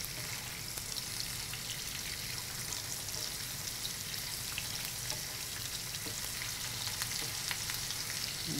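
Chopped onions fry in oil in a pan for oats khichuri, a steady, crackling sizzle that runs without a break at moderate volume, with no talking.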